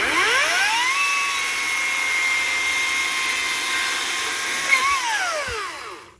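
A Ryobi 40V brushless chainsaw with a new chain cuts through wood with a loud, steady high-pitched whine, its pitch rising as the cut begins and falling off near the end before the motor stops.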